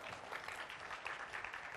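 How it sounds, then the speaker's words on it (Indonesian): A quiz competition audience claps during a semifinal round, a faint, even wash of many hands applauding throughout, with no distinct voices above it. "Beri tepuk tangan dong."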